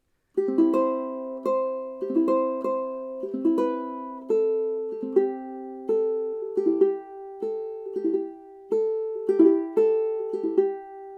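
Fingerstyle ukulele plays measures 8 and 9 of a song as clean, close, plucked notes and arpeggiated chords in a gentle, steady rhythm, with no voice.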